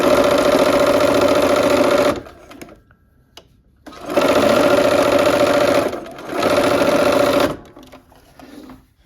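A sewing machine stitches quilt pieces for a Basket of Plenty quilt in two long, steady runs of motor hum and needle clatter, with a brief pause between them and a shorter stitching burst near the end.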